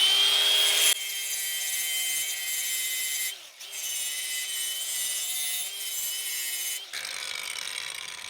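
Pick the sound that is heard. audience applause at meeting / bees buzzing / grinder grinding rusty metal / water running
grinder grinding rusty metal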